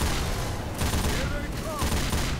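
Dense, rapid gunfire from the zombie shooter game Left 4 Dead 2, with overlapping bursts at close range and faint voices underneath.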